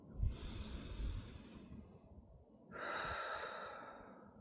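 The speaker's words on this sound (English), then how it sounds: "Again, an etheric breath." A deep breath drawn during a guided meditation: one long, close inhale followed by a slow, airy exhale, with no speech.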